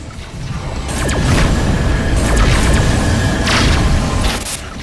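Missile explosions in the space game Rebel Galaxy: several deep booms and crackling blasts swell and fade over a rumbling engine drone, loud and repeated through the clip.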